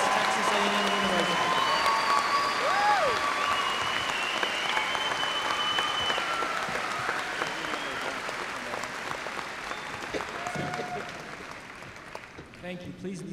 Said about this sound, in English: Let's have a round of applause for our May 2019 doctoral and master's degree graduates from West Texas A&M University.